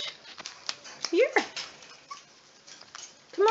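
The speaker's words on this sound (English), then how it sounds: "Hi, puppies. Who are you, little one?" Small puppies in their pen give high, rising whimpers and yips, close by and intermittent, with a person speaking softly to them in between.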